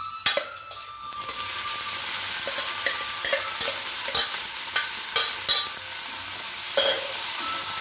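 Chillies fry in a pan for a Kerala dish, giving a steady sizzle with scattered scrapes and clinks of a spoon stirring against the pan.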